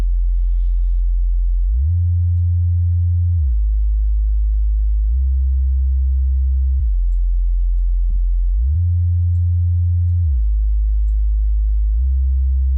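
Deep, smooth synth sub bass notes play a slow pattern through a low pass filter, sustained low tones shifting pitch with a muffled, rounded character and nothing else.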